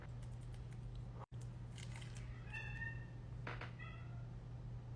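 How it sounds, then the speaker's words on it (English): Pet cats meowing indoors: a couple of short, fairly faint meows later on, over a steady low electrical hum, with a brief dropout near the start. "My cats are going crazy."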